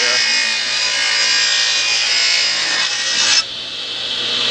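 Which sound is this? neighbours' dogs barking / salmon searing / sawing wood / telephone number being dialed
sawing wood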